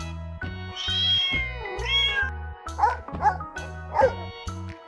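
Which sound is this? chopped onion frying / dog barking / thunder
dog barking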